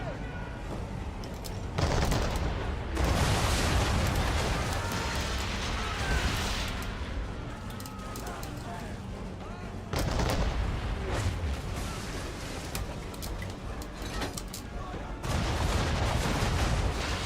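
Ship cannons firing in a naval battle in Assassin's Creed 3 Remastered, heavy booming volleys in several loud bursts with rumbling blasts between them, a voice talking over the barrage.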